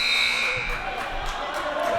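An arena buzzer sounds at the end of a quarter in a women's college basketball game between Queensborough and Hostos CC. It is a steady electronic tone at the start, partly masked by crowd noise, with a commentator talking throughout.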